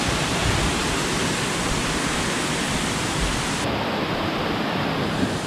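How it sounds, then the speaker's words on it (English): The fifth tier of Erawan Waterfall in Kanchanaburi, Thailand, roars steadily and loudly close by, a constant rushing wash of water with no voices. "this is actually the fifth waterfall"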